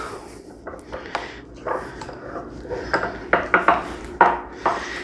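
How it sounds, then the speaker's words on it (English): A utensil mixes cheesy hash brown casserole ingredients, giving repeated scraping and clinking strokes against a dish. The strokes are close and grow louder and more rhythmic toward the end. "I like to give that a little mix."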